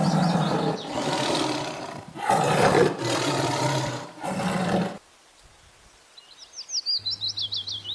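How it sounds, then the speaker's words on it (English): A tiger gives several loud, heavy roars in quick succession up close, followed by a quieter pause and brief bird-like chirps. "T for tiger."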